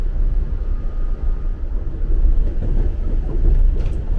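A train rumbling through a train yard seen from a highway, a loud continuous low-pitched roar and rattle of rolling cars that swells slightly toward the end, with no talking.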